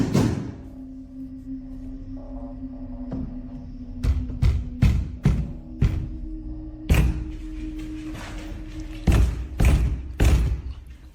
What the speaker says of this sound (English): Someone, possibly the same woman, is caught banging on the front door in the middle of the night